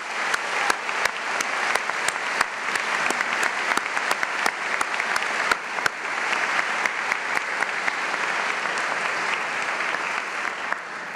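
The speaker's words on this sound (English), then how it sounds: "So I'd like to give a round of applause" A ceremony audience applauds key educators at a white coat ceremony, steady dense clapping from many hands sustained throughout, with a few louder claps standing out and no talk.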